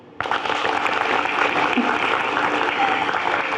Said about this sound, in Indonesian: Boleh sekali lagi tepuk tangannya biar makin semangat